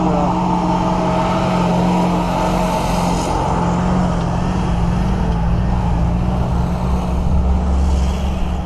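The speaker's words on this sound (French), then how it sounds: "Les vieux camions peinent dans la montée." Old trucks labour up a mountain climb near Lake Sevan in Armenia, a loud, steady engine drone that swells slightly toward the end and stays continuous throughout.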